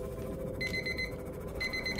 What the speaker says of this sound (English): Yeah, I hear you, timer.